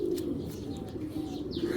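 Racing pigeons coo softly amid steady low background noise and faint chirps, sounding close but muffled.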